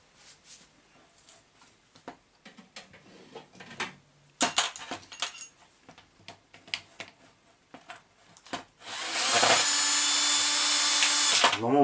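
Hand tools clink and scrape while a nut is worked off a Losi SRR RC car, with scattered close metallic taps and clicks before a loud, steady buzzing tool sound takes over near the end.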